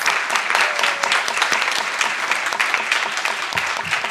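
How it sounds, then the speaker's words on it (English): A crowd applauds steadily, a dense wash of clapping hands that holds at an even level throughout. "Give the ladies a round of applause."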